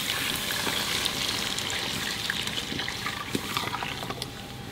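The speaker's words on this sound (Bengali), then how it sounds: "ডালিতে যে জলটা গালিয়ে রাখছিলাম সেই জলটা দিয়ে দেবো" Water poured into dal cooking in a pot, a steady close splashing trickle running continuously with small bubbling pops throughout.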